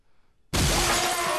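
Glass shatters in the Happy Wheels video game: a sudden loud crash after near silence, followed by a sustained bright tinkling spray of breaking shards.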